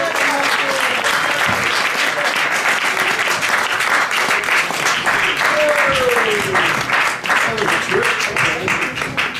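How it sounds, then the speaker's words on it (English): Loud, sustained audience applause at the Nuyorican Poets Cafe as a poet comes to the stage, dense clapping with crowd cheers and a voice calling out over it. "Start clapping now."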